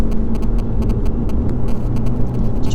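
A Lotus Evora drives on the B1257 road near Helmsley in England, its engine a steady, loud rumble heard from inside the car with no break.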